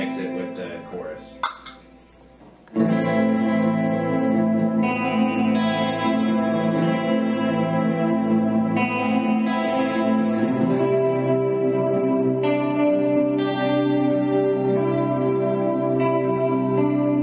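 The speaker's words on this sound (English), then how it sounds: "And I usually mix it with the chorus." Electric guitar through a Mesa amp with chorus effect and heavy reverb, playing thick, sustained chords that ring out continuously and loudly after a brief quieter start, with no voices.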